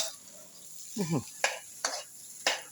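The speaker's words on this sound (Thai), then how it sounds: "แค่นี้คนให้เข้ากันมันก็เป็นข้าวผัดแล้วนเนี่ย" A spatula scrapes and stirs fried rice in a pan in three or four brief, sharp strokes over a faint sizzle, with a short voice sounding just before them.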